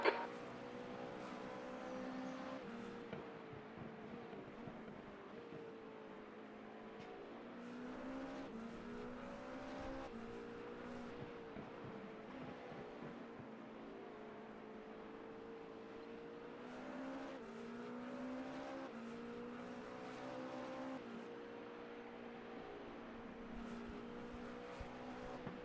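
Race car engine in the iRacing simulator during an endurance race at Watkins Glen, a steady high-revving drone rising and falling through gear changes and corners for the whole stretch, with no voices.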